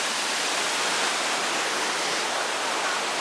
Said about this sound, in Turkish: Bu bildiğin akar bir su.